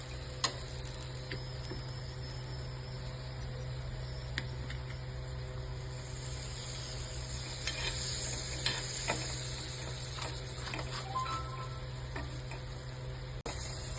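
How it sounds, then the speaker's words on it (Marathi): Mexican-style cassata pieces roast crisp on a griddle over low flame with a faint, steady sizzle. A constant low hum sits underneath, broken by scattered small ticks and clicks. "दोन मी ठेवले भाजायला इकडे तव्यावरती"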